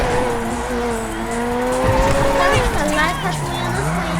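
Car in GTA 5 tearing along at high speed with its tires squealing and skidding, a loud steady engine roar with sliding pitch, up close over constant game sound and voices.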